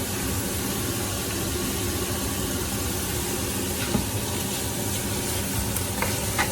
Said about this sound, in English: And mix it up so it doesn't catch.